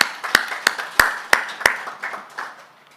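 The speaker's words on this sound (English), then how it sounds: "Yes, let's clap for them." An audience at an academia-public-private partnership forum gives a few crisp, evenly spaced claps for youth ambassadors; about five sharp, close claps stand out before softer scattered clapping fades away.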